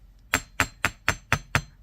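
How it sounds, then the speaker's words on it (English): Six evenly spaced strikes of a nylon hammer on earrings resting on a steel bench block, sharp close taps with a slight metallic ring, alone without talk. "we're just going to use our nylon hammer because we're going to work harden them"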